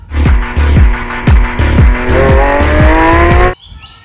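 A blue Lamborghini race car toy plays loud engine and tire-squeal effects. A string of sharp screeching bursts and falling engine whines repeats rapidly, then cuts off abruptly near the end.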